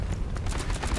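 Rapid turret gunfire from Overwatch rattles in a fast, dense burst of repeated shots over a brief, continuous stretch.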